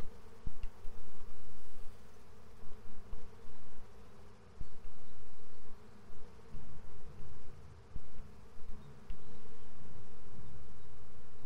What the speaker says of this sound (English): We have a swarm of bees.